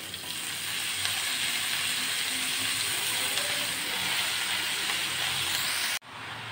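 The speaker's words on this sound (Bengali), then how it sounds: "এবার আমি কেটে রাখা শাকগুলো দিয়ে দিচ্ছি" Chopped green amaranth greens dropped into a hot pan of reddened fried garlic, giving a loud, continuous close sizzle that cuts off abruptly near the end, with no talking.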